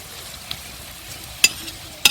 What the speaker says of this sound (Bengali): উল্টে পাল্টে পরোটাটা ভেজে নেব।